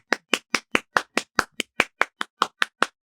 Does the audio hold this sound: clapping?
yes